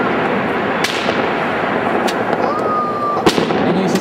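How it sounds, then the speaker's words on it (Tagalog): Fireworks crack and pop in a city street, with sharp distant bangs over a steady crowd hum and occasional voices in the background. "may mga nagpapaputok din yan. Mga fireworks dito sa kalsada."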